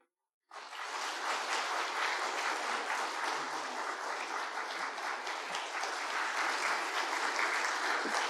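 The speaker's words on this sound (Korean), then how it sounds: "약정서 전달할 때 크게 박수해 주시기 바랍니다" A congregation claps loudly and steadily at a church missionary commissioning service for a missionary sent to Japan, the applause starting abruptly after a brief silence and holding a dense, even wash to the end.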